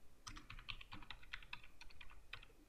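Quiet typing on a computer keyboard while filling in a PDF form in Adobe Acrobat Pro DC, a quick irregular burst of light key taps with short gaps.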